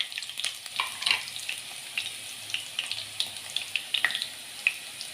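Green chillies and asafoetida frying in hot oil for a Kathiyawadi-style spinach dish, a soft continuous sizzle dotted with sharp crackles and pops at an even, moderate level.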